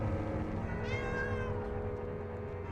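A cat in the Doctor Who video game lets out a single drawn-out meow, clear and moderately close over a low steady background hum.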